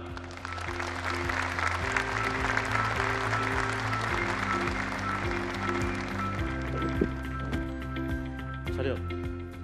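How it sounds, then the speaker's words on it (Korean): Steady, dense applause from a large crowd continues throughout, with a musical fanfare with sustained tones playing over it, at a fighter jet prototype unveiling at the Korea Aerospace Industries factory. "큰 박수로 환영해 주시기 바랍니다."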